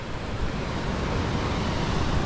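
Strong sea waves at a shoreline, a continuous loud roaring wash of surf mixed with wind buffeting the microphone, steady throughout with no distinct breaks.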